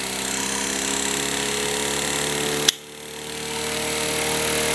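Kromrey converter motor running steadily with a strong hum and whine, briefly dipping in level as it strains under load before recovering, loud and close with no talk.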